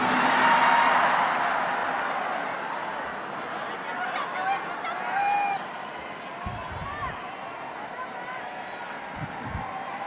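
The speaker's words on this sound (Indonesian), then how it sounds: "kok tepuk tangannya paling keras nih" A large audience at a national solidarity movement event addressed by a speaker applauds and cheers, a broad crowd roar that is loud at first and then eases into steady clapping and murmur, with a voice talking over it.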